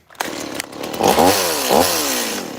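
A gas chainsaw carves a small bear figure out of a wooden post, starting with pull-start sputters and then revving loudly in two rising, whining surges that settle into a steady close-up buzz.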